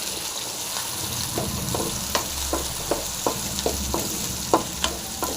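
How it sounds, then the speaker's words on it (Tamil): Onions frying in hot oil with ginger and garlic, a steady sizzle under repeated scraping strokes of a spoon stirring the pan, close and moderately loud, with no talking. "அடுத்தது வெங்காயம் நல்லா ஃப்ரை நல்லா ஃப்ரை ஆகணுங்க"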